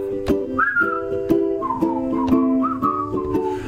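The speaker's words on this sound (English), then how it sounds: "Just purse your lips and whistle." A person whistles a melodic tune with sliding, sustained notes, close and clear, over a plucked accompaniment that keeps a steady beat.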